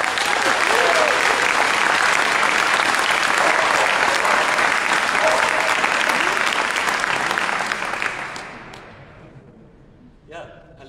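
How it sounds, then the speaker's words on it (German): A live audience at a PechaKucha storytelling evening breaks into full, sustained applause for an arriving speaker, thick even clapping for about eight seconds before it thins and dies away into near silence with a few last claps. "10 Punkte, Applaus für Heinrich Schmidt!"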